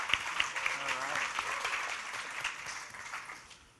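A standing audience applauds steadily, a dense wash of clapping that gradually fades toward the end, with a voice speaking over it.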